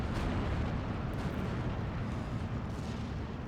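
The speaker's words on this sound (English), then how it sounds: "17-pounders firing at this" Heavy 17-pounder anti-tank guns fire in a Steel Division 2 battle, a continuous rumbling barrage of deep booms and blasts that fills the whole stretch without pause, dense and loud with no voices.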